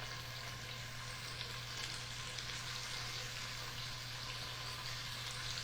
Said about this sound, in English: I don't know if you can hear them sizzling.